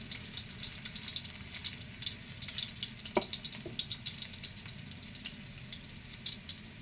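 Upo and sardines fry in hot oil, a steady, loud sizzle with scraping stir strokes and a couple of clinks from the utensil, and no voices.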